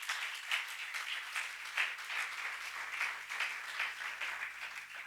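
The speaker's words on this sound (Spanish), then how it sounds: "¿Cuántos pueden darle un fuerte aplauso al Señor por eso?" A church congregation breaks into sustained applause, dense overlapping clapping filling the room at moderate volume for several seconds, with no speech over it.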